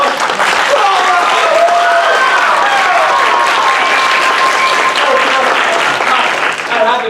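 Theatre audience applauding after a stage comedy scene, a sustained loud wash of clapping with a voice speaking over it throughout.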